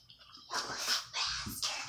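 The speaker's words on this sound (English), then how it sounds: "My dog's trying to eat the floor." A Jack Russell pit bull puppy gnaws and snuffles at the floor, making three loud, close, scratchy bursts of chewing and snorting noise with short gaps between them.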